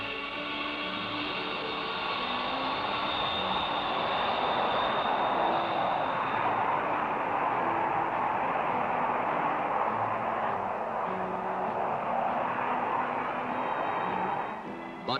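A B-52 Stratofortress bomber roars down the runway on takeoff, a loud, steady broadband jet rumble with whining tones that holds for the whole stretch before cutting off abruptly at the end.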